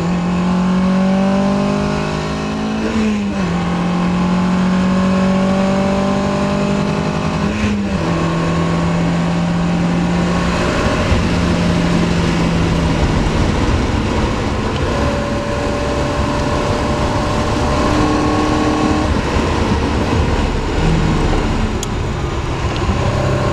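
A BMW 2002 race car at speed on the Nürburgring Nordschleife, its engine loud and continuous, with repeated rising and falling revs as gears shift, heard from on board with no talk.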